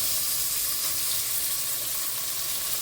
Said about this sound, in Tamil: இந்த ஸ்டேஜில் வந்து நம்ம கட் பண்ணினா தக்காளியை போடுவோம்.